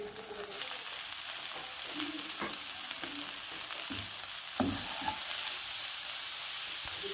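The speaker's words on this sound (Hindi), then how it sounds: "कैरेट्स को हम 2 से 3 मिनट के लिए फ्राई करेंगे।" Carrots sizzle steadily in a hot pan, a dense continuous frying hiss with occasional scrapes and knocks of stirring, close and moderately loud, no talking.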